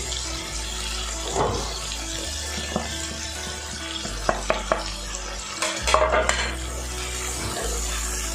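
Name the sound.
roasting ground coconut with ginger-garlic paste in a pan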